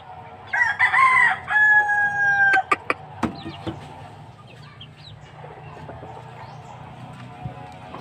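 A Sweater Kelso gamefowl rooster crows once, loud and close, at a small breeder's yard in Bohol, followed by a few sharp knocks and a quieter outdoor background with faint distant calls.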